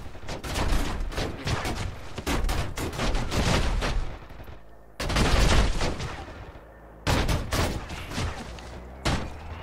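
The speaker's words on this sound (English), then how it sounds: "They're shooting me between my 12 and 1 o'clock" Gunfire in the flight combat game DCS World, aimed at an OV-10 Bronco aircraft, comes as long dense volleys of rapid shots, three main bursts separated by short quiet gaps.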